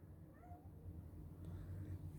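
A domestic cat gives a brief, faint meow early on against a low indoor rumble, quiet and close-ish with no clear speech.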